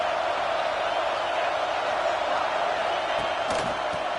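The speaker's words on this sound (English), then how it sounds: "This crowd knows when to bring it." Steady roar of a stadium crowd cheering in a college football video game, Ohio State against Penn State, a continuous loud wash of noise with no clear breaks.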